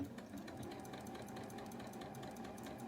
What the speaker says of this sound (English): I always have to do a little bit of slow sewing and sample sewing in the beginning before I get started